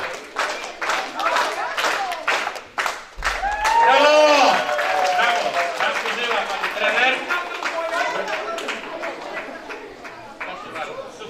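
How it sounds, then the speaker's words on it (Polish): An audience at a sports club's St. Nicholas Day event claps in encouragement, a spread of hand claps and crowd chatter under a loud announcer's voice that carries on throughout. "Klaszczemy. Na, na zachętę."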